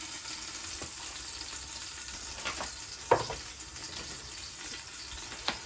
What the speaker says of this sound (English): we want to kind of fry the garlic, if you will